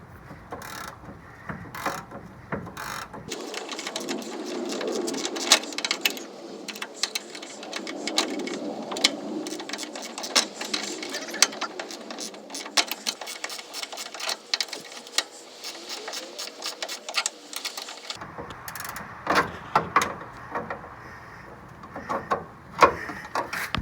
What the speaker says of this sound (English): The reason it's securing on so tightly on its own and I'm not adding a lot of pressure is because it's a lock washer, or a lock nut I should say.